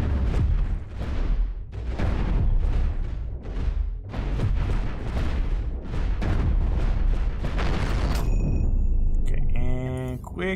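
Railgun weapons on a ship in the space game Cosmoteer fire in a rapid series of loud heavy booms that keep pounding for several seconds, ending with a few electronic tones.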